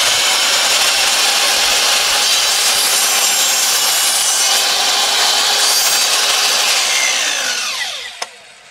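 A Zubr Master miter saw cuts through a wooden board, a loud, steady whining rasp that holds for several seconds, then winds down as the blade spins to a stop.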